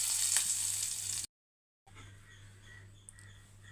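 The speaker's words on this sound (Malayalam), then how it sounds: "നല്ലെണ്ണ ഒഴിച്ച് കൊടുക്കുകയാണേ. കുറച്ച് കടുക് ഇട്ട് കൊടുക്കുക." Mustard seeds and curry leaves sizzle in hot sesame oil in a pan, giving a quiet crackling fry that breaks off abruptly and then resumes more softly with a few faint pops.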